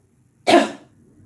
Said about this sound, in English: Exhale, cough.